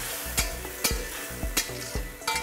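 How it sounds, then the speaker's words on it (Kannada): Bitter gourd gojju frying in a pan with chili powder and salt, a steady sizzle broken by regular clanks of a spoon stirring against the pan every half second or so, close up with no talking. "ಇನ್ನು ಸ್ವಲ್ಪ ಚೆನ್ನಾಗಿ ಫ್ರೈ ಆಗಲಿ."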